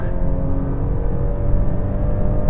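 An Audi S5 accelerating hard at high revs, its engine giving a loud, steady, dense drone that holds constant and close throughout.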